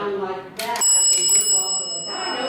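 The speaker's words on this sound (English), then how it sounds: "It's going to go off the top of the bell and the bottom of the bell." A dime dropped into a vintage payphone's coin mechanism strikes the bell twice, top then bottom, giving bright metallic dings that ring on with a sustained tone, with a voice talking just before.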